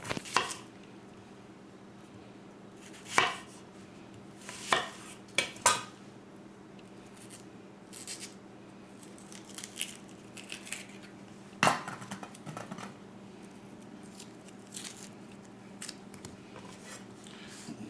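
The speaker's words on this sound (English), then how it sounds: "let's go ahead and cut up this onion" An onion is cut up with a knife on a board while chili is being prepared: scattered sharp chops and taps, some in quick pairs, spread out over a quiet kitchen background with low hum.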